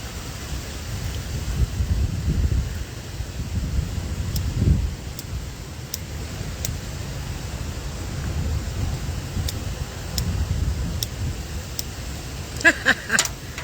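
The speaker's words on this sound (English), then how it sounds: "It was kind of windy." Gusty outdoor wind buffets a microphone in low, uneven rumbling bursts that swell and fade, with a few faint clicks and a short scraping rattle near the end.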